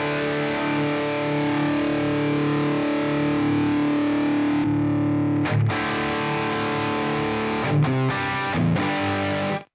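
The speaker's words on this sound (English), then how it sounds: "So a 2-Rock Coral amplifier, which is interesting because I've not ever seen that modelled in any other modelling unit." Heavily distorted electric guitar played through a Harley Benton DNAFXGit modelling a 2-Rock Coral amp, with thick sustained chords, a brief drop and several choppy stabs near the end, loud and continuous with no talking.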